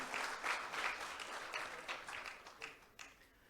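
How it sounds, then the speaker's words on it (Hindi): Applause from an audience at a stock exchange listing ceremony for Macpower CNC Machines, a steady burst of many hands clapping that fades over a few seconds, with no voices. "एक जोरदार तालियां गुजरात के लिए."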